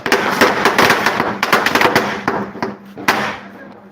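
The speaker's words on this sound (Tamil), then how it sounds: "எல்லா ஃபேமிலியோட பட்டாசு வெடிச்சிட்டு" Firecrackers burst repeatedly during a family festival celebration, a dense run of sharp cracks and pops close by, with louder isolated bangs standing out near the end and no talk over them.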